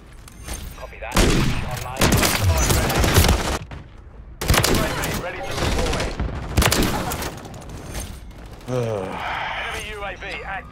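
Video game gunfire in Modern Warfare 3 comes as loud sustained automatic bursts separated by short gaps, with the player talking excitedly over the shooting.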